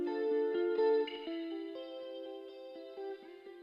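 A clean electric guitar plays a flowing arpeggio of ringing notes, each one trailing into a wash of reverb.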